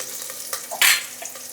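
Small onions fry in oil for a Kongu-style mutton gravy, giving a brief sizzling hiss that swells sharply for a moment as a spatula stirs them, with no talking.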